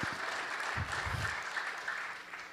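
A church congregation claps together in steady, moderately distant applause, rhythmic handclaps that gradually fade toward the end with no talking.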